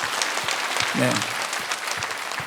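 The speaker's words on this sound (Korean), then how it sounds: "박수 한번 쳐줘요." A church congregation applauding, a steady patter of many hands clapping together at moderate loudness, with a brief spoken word in the middle.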